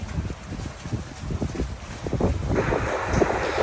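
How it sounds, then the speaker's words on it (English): Blustery wind roars steadily across the microphone on a boat, with low rumbling gusts and a brief rush of water noise near the end. "Very windy."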